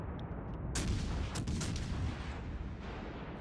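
Naval gun salvos from the Scharnhorst battleship in World of Warships boom in a quick cluster of heavy reports over a constant low rumble of battle noise.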